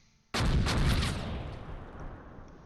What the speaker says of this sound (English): Man, their mortars are deadly accurate.